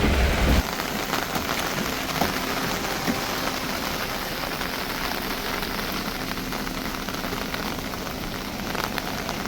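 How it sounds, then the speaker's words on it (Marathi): Heavy rain pours steadily in Kudpan village in the Konkan as a dense, continuous hiss of drops hitting surfaces, unbroken from start to finish. "भयंकर पाऊस आहे बाहेर"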